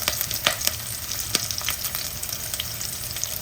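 Curry leaves sautéing in hot oil or ghee in a pan while making vethu sambar, a steady close sizzle and crackle with a few sharper pops, no talk.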